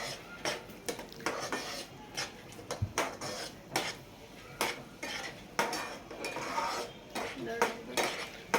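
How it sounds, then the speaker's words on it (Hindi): Yogurt being stirred into a vegetable mixture of Rajasthani haldi sabzi in a metal pan, heard as repeated scraping and clinking strokes of a spoon at a steady, uneven rhythm, fairly close and moderately loud with no talking. "दही को अच्छी तरह मिलाने के बाद"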